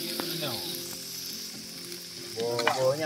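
Nasi goreng fried rice sizzles steadily in a hot pan, a continuous close crackle with scraping stir strokes that grow louder near the end.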